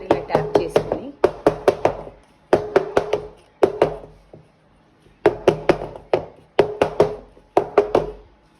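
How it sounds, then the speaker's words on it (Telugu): A bowl of banana chocolate egg cake batter is rapped against a surface in quick bursts of three to five sharp knocks, separated by short pauses, loud and close with a faint low hum underneath. "గంటలు కట్టకుండా ఒకసారి ఇలా ట్యాప్ చేసుకొని"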